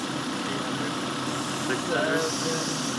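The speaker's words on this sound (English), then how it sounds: "That idle's normal" A car engine idles steadily with a low, even rumble and faint vibration, close by, with people talking over it.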